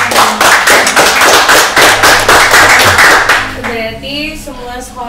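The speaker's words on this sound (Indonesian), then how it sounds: "Tepuk tangannya dulu" Brisk, close applause from an audience at a talk event, a dense run of claps lasting several seconds before fading as a voice begins speaking.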